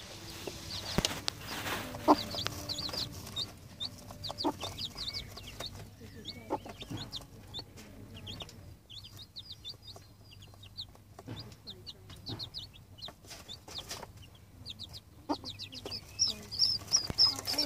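Hen clucking with her young chicks, with soft repeated clucks and high chick peeps scattered throughout amid faint background noise and some quiet talk.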